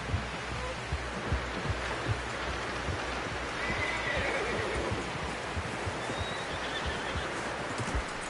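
In a video game, a horse whinnies over rhythmic clip-clopping hooves, with a dense rushing background and regular soft thumps throughout.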